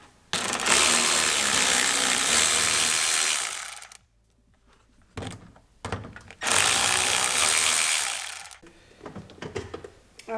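A power tool, likely an impact driver or ratchet, removes the bolts of a Honda Civic EK door mirror in two loud, sustained whirring bursts. Short clicks and handling noises fill the gap between them and follow the second burst.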